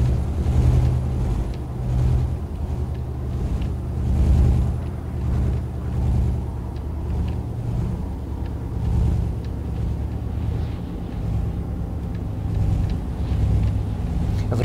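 A heavy truck engine in Euro Truck Simulator 2 drones and rumbles loudly at speed, a continuous low throbbing roar with gentle surges in power.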